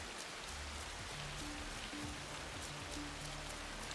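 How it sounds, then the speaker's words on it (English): Steady, heavy rain ambience in the video game Assassin's Creed Shadows, a dense, even hiss of rainfall with no pauses. "Rain in the game also feels heavy and real. Just listen to the sound and ambience when it rains."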